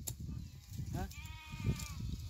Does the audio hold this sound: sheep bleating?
yes